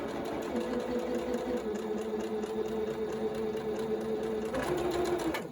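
A sewing machine stitches a straight seam through fabric for half-square triangle quilt blocks, a close, steady mechanical whir with a hum that shifts pitch near the end.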